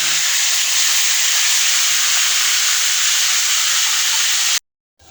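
Ground tomatoes poured onto fried garlic in a hot pan, a loud, dense, close hissing sizzle held steady for several seconds before cutting off abruptly, with no talking.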